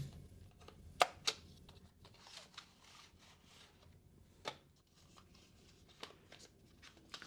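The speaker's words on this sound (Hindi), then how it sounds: "कीबोर्ड को अनबॉक्स करते हैं फटाफट" A keyboard for an iPad Mini is unboxed, with faint close rustling and crinkling of packaging broken by a few sharp taps and clicks as pieces are handled.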